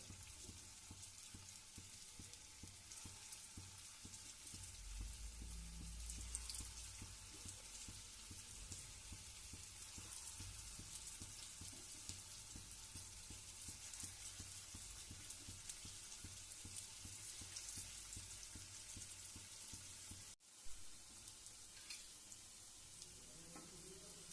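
Sweet potato gulab jamun balls frying in a shallow amount of oil, a faint steady sizzle with light stirring, continuous and even, with a brief dropout near the end.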